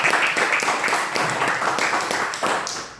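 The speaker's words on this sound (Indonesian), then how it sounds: "Tepuk tangan buat bisnis ini" A crowd claps at a business opportunity presentation in Pekanbaru, the hands beating in a fairly loud, dense patter that thins and fades toward the end.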